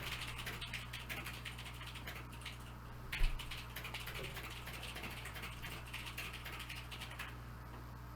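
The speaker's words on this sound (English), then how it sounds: "You are typing furiously." Fast, rapid clatter of keys on a computer keyboard, a continuous stream of quick clicks with one sharper knock partway through, quiet and close against a low steady hum.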